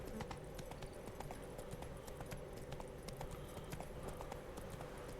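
Horse hooves clip-clop in a quick, steady rhythm in The Witcher 3 video game, quiet and continuous, with no voices.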